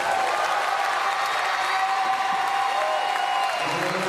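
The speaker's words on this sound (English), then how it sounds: "Huge round of applause from this crowd at the Porte de la Chapelle Arena" A crowd at Paralympic powerlifting in Paris's Porte de la Chapelle Arena applauds loudly and continuously with some cheering and whoops, while a commentator talks over it.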